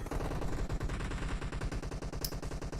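Rapid automatic rifle fire in the mobile battle game PUBG Mobile during a team deathmatch, a dense unbroken stream of loud, close shots in fast rhythm throughout.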